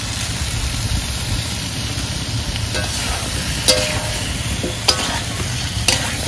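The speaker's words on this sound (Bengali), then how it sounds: "মশলা করা হয়ে গেছে, এবার ওলগুলো দিলাম।" Pieces of elephant foot yam fry with spices in a pan, making a steady, close hiss of sizzling under continuous stirring, broken by a few sharp clinks of the utensil.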